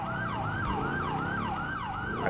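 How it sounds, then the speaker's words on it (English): Police motorcycle siren from GTA V on a nighttime patrol, a loud, continuous wailing sweep that rises and falls about every half second, close and steady throughout. "we do need to shut off your siren. There's no need for that thing to stay on"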